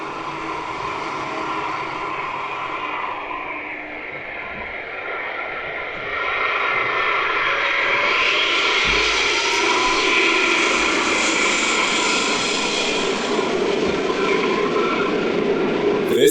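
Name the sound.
Airbus A380 aborting landing, going around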